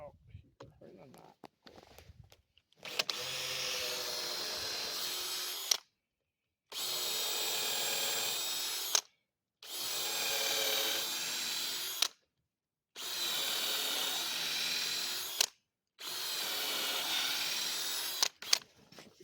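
Power drill boring a hole through a knot in treehouse wood while new rails are fitted, running in four or five sustained bursts of several seconds each with short pauses between, loud and close, with brief voices before the drilling.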